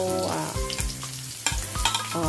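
Onion stir-frying with mussels in a wok, a steady loud sizzle with repeated scraping and stirring strokes of a utensil against the pan, close up and continuous with no talk.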